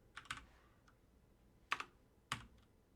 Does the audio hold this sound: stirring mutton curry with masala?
no